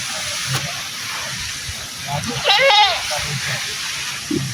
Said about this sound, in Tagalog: Yan ang kambing mga kaidol.